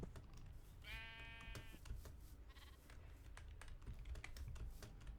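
Sheep bleating in a Minecraft GregTech modpack game, two short wavering bleats over steady computer keyboard typing and clicking.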